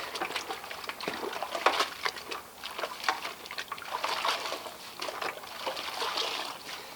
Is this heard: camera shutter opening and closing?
no